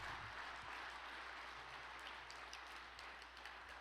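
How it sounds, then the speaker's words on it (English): A room full of people applauds, a dense, even wash of clapping that holds steady throughout, heard at some distance and fairly faint. "Let us offer another big round of applause to President Lee Ki-sung"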